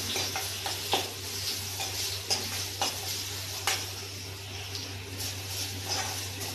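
Thuthuvalai herb fries in a pan for rasam, giving a soft steady sizzle with repeated light clinks and scrapes of a spoon being stirred, all fairly faint and close.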